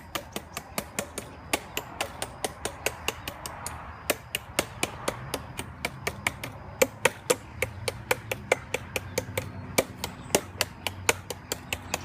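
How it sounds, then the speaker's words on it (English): Steady hammer blows pounding down the lid of a bucket of concentrated xylene-based sealer, dozens of sharp close impacts in a fairly even rhythm over twelve seconds, alone without talk. "I stand on this as I'm hammering this down"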